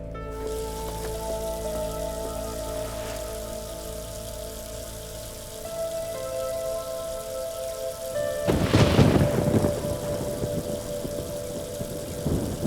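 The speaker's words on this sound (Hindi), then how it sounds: "बारिश शुरू होने वाली है।" Steady rain patters on surfaces, then a loud, close thunderclap crashes and rolls out over the continuing downpour.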